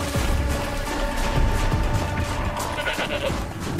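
A goat in Horizon Zero Dawn: The Frozen Wilds bleats over a dense, busy game soundscape, its calls continuous and fairly loud against the constant background.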